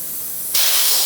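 Pressurized air from a leak-down tester hisses steadily into an engine's coolant jacket through a leaking head gasket, a loud continuous rush that jumps sharply in intensity partway through and holds.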